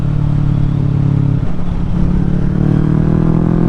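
A 2023 Kawasaki Ninja 650 on twisty mountain roads drones loudly and steadily under throttle, its engine note dipping briefly then rising again with constant wind rush.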